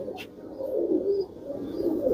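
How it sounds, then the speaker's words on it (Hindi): Soft, low cooing from a Firozpuri pigeon repeats in gentle rolling phrases, close by, with a brief faint chirp near the start. "वो बिल्कुल नाजुक सी कबूतरी है,"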